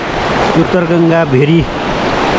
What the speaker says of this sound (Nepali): सिधै अगाडि खोला